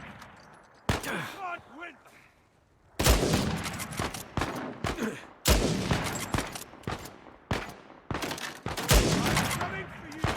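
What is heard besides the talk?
gunfire in Uncharted 4 video game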